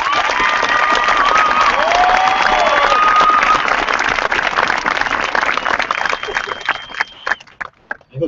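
A crowd at a high school graduation applauds retiring teachers with loud, dense clapping and cheers, holding strong for several seconds before thinning out into scattered claps at the end.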